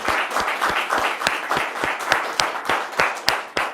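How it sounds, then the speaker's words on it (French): A studio audience on a television set applauds: separate, sharp hand claps land in a fairly regular rhythm, suggesting a modest group rather than a roaring crowd, clear and close with no talk over them. "je vais vous demander une énième fois de vous applaudir vous-même"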